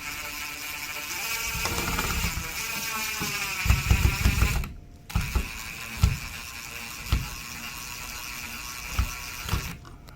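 Screws are driven into a 55 W Smato cross-shaped LED ceiling lamp fixture. A power driver whirs and grinds in loud, close bursts, then drops to a series of separate ratcheting clicks.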